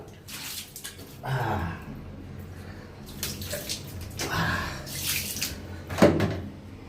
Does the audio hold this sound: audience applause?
no